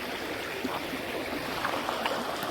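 Water lapping and flowing along a shoreline, a soft continuous wash with light gurgles and small splashes, steady and fairly close with no voices.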